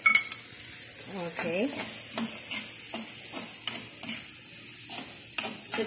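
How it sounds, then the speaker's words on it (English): Three cloves' worth of diced garlic sizzles steadily in butter in a pan for buttered garlic shrimp, with soft stirring and scraping over the frying hiss and a brief spoken word. "After a few seconds, we add a generous amount of garlic."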